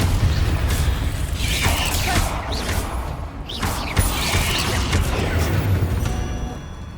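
Incendio fire spell cast in Hogwarts Legacy, heard as a few whooshing, crackling bursts over a steady low rumble, with no voices present.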